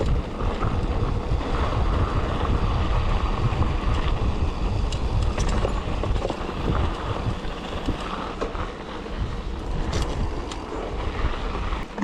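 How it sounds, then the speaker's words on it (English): Strong wind roars continuously across a mountain biking trail, buffeting the microphone with heavy low rumble and gusty surges throughout. "This is very windy."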